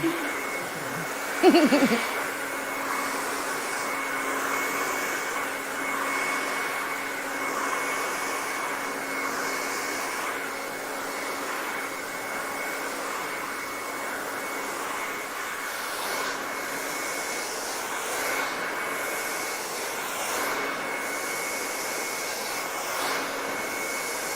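A hair dryer blow-drying hair with extensions gives a steady, close whooshing roar that runs without a break, apart from a brief bump near the start.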